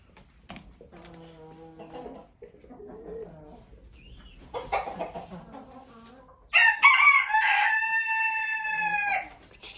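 A rooster crows loudly inside a chicken coop near the end, preceded by hens clucking and murmuring softly nearby.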